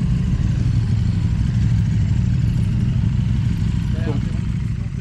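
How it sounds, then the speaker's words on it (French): A loud, low engine drone rumbles continuously as sport motorcycles leave a race track close by, steady with a faint rattle near the end. "interrompu par le balai des motos qui sortaient de piste"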